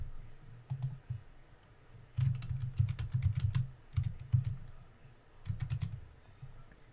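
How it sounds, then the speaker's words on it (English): An IP address is being typed on a computer keyboard, with quick clusters of close, crisp key clicks separated by short pauses. "we're going to type in the IP address that we got from command prompt"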